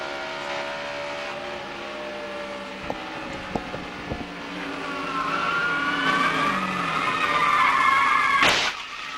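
NASCAR Busch Series race car heard from an onboard camera in 2002, a loud high engine whine that shifts pitch through gear changes and acceleration, with sharp knocks and a rushing burst near the end, no talk.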